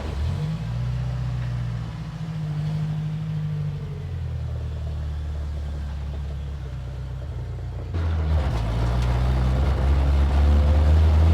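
Built engine in a 1979 Toyota Corolla idles with a deep, steady rumble, then climbs to a louder, heavier drone near the end, close and continuous with no talk.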